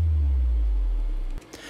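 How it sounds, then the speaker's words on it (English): A synthesized sub drop effect: a loud, deep low-frequency boom that sustains and then cuts off abruptly, followed by a faint brief noisy swish, with no talking. "in this video we're going to be creating this sub drop sound,"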